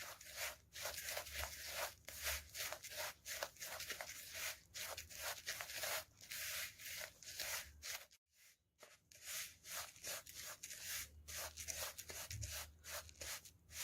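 Roasted oats, seeds and flax seeds are stirred together for mukhwas, giving quiet, rhythmic scraping and rustling strokes that repeat steadily with a brief pause partway through and no talking.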